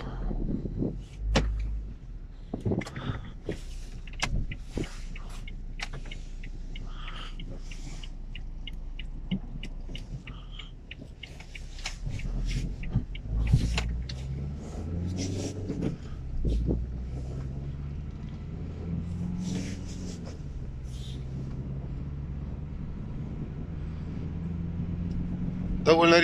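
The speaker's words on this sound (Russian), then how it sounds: "Сейчас быстренько проедемся, посмотрим, как она едет" A 2008 Renault Scenic drives on a short test run, its low engine hum rising and building as the car accelerates, heard from inside the cabin with occasional knocks and clicks.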